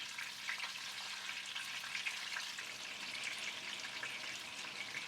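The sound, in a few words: cod fish pieces shallow frying in a pot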